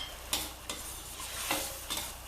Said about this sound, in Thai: ผัดให้ถั่วฝักยาวสุกนะคะแล้วก็ชิมรสชาติตามชอบค่ะ